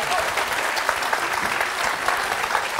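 Loud, steady applause from a studio audience on a French TV quiz show, a dense wall of clapping lasting throughout without a break.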